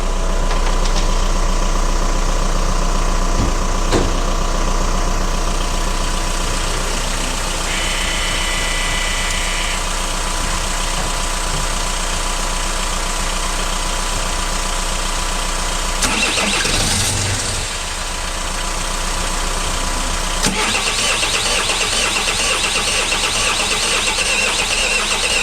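Citroën C5 2.0 HDi diesel engine turning over on the starter to prime fuel, a continuous loud droning crank that carries on for a long stretch with a brief dip and some clatter midway.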